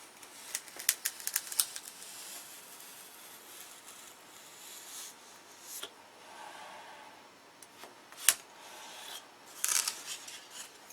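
Hand sanding of a part for an electric control line Thunderbolt model airplane, a faint gritty rasping in irregular strokes with a few sharper scratches and taps, close by and without talk.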